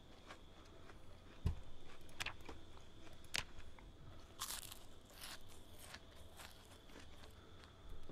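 A character eats food in the Project Zomboid video game: a few crisp biting and crunching sounds, fairly faint, with scattered clicks over a low background hum and no talk.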